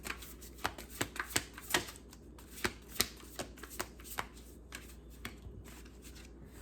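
Tarot cards being shuffled and drawn by hand, a quiet run of crisp riffling snaps and soft slaps in an uneven rhythm, close by with no talking.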